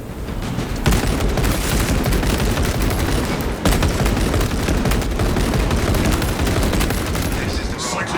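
Servo gun fire in the video game Warhammer 40000: Space Marine 2, a relentless, loud barrage of rapid shots with a brief break near the middle, thick with booming impacts and a voice heard in the mix.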